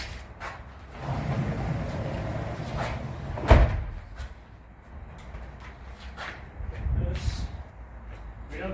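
A large panoramic sliding door on a block house is unlatched and rolled open, giving a rumbling slide with a sharp clunk midway and further thuds, while people talk over it.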